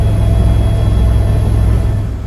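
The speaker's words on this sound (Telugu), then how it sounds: "హెలికాప్టర్ అయితే చాలా లౌడ్గా ఉంది" Loud, steady low-pitched helicopter engine drone with a continuous whirring rotor hum, close and unbroken throughout.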